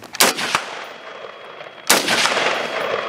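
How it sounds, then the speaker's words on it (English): Rifle shots ring out during a shooting-position drill with the shooter in body armor: two quick sharp cracks, a pause, then a third loud report with a lingering echo. "You want to go ahead and fire a couple shots?"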